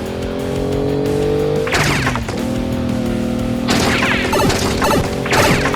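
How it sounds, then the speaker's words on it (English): A LEGO car slams into a wall of hard sugar glass, with loud crashing, shattering bursts over a steady engine hum and background music, repeated impacts close together. "The next obstacle is Glass Wall Crash."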